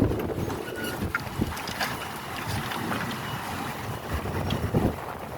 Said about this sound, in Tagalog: Sobrang hangin kasi.